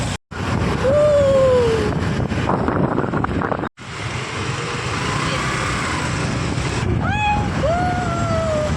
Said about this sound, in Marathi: मस्त असं थंडगार वारा पण छान सुटलेला आहे